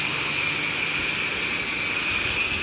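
A pressure washer mists a deck with an M5 nozzle. The spray gives a loud, constant hiss with a steady high whine running through it, unbroken from start to finish.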